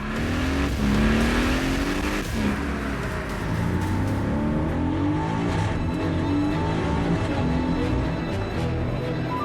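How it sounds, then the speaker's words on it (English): Aston Martin V8 Vantage pulls away at full throttle, its V8 engine roaring loud and steady as it climbs through the revs, close by with no talk. "The driver immediately takes off at full throttle."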